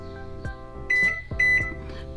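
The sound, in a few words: microwave oven running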